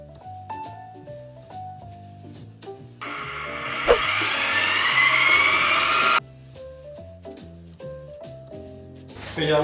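An electric mixer beats sweet potato casserole batter with eggs and vanilla in a bowl, a loud steady whir of about three seconds cutting through background music with a brief clunk partway through.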